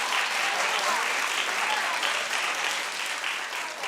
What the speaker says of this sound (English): Clap if you're watching.